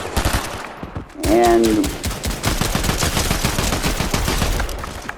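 The close-quarters Warforged gun in Fortnite Chapter 5 Season 2 fires rapidly in a loud, steady stream of shots lasting several seconds, after a brief spoken word.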